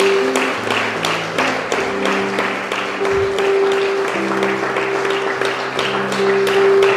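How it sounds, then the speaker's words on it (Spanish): A church congregation applauds together in steady, continuous clapping, with a sustained musical tone underneath and a faint voice mixed in. "Dale un aplauso al Rey de Gloria"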